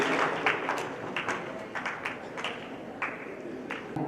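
Audience at a motivational seminar claps to welcome a speaker to the stage, a steady moderate patter of many hands at some distance, without any speech over it.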